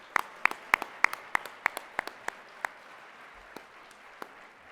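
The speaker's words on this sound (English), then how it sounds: "let's give one more big round of applause for our community involvement" At a diversity gala, a crowd applauds community involvement honorees with sharp, distinct claps over a soft wash of clapping that gradually spaces out and fades.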